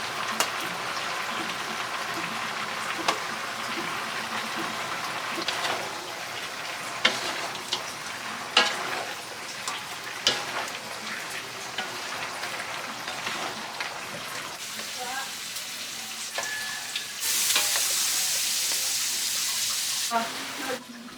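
Chop suey with tofu, chicken and oyster sauce sizzles in a pan while being stirred, with a continuous frying hiss broken by scraping and clattering utensil strokes, and a brief louder hiss near the end.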